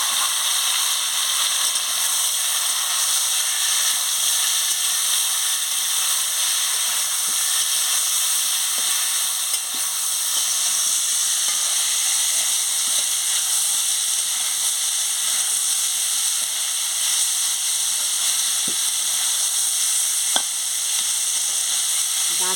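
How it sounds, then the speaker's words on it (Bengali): Moringa drumsticks fry in hot oil, giving a steady, loud, continuous sizzle and hiss that holds unbroken throughout, with faint scattered pops and clicks. "এবার তেল গরম হয়ে গেছে, আমি ডাঁটাটা দিয়ে দিচ্ছি।"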